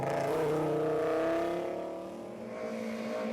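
An Audi Quattro historic rally car at a summer rally in Galway revs hard with a rising, harmonic engine note, then eases off and picks up again at moderate distance.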